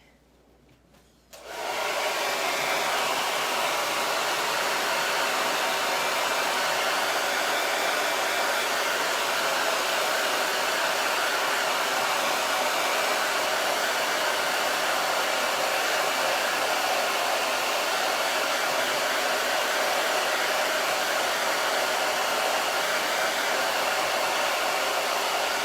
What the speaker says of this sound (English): I'm gonna hit this with my dryer real quick